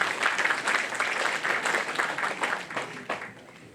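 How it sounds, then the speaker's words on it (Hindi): A college auditorium audience gives a hearty round of applause for an honoured guest, dense steady clapping close and loud that tapers off toward the end. "उनका जोरदार तालियों के साथ अभिनंदन करें"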